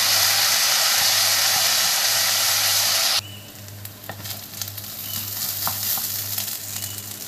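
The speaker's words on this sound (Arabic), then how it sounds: "هديله تقليبة كده، وبعد كده هحط فوقيه كوباية من الرز الأبيض المغسول وهقلبهم مع بعض كويس" Washed white rice being stirred into a hot pot for Egyptian koshari: a loud, steady sizzle that cuts off abruptly, followed by quieter scraping and stirring with faint crackles.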